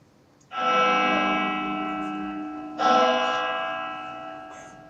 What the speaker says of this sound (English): Those bells mean the end of March.